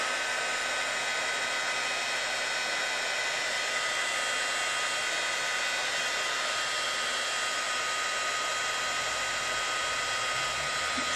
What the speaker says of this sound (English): So now you're going to take your heat tool and you're going to hold it about 1 to 2 inches away until the paint starts to bubble.